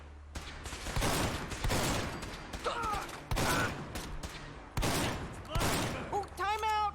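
Rapid gunfire in a Fallout 4 fight against Rust Devils, loud bursts of shots in quick succession with brief gaps, plus a few whistling, chirping electronic sounds.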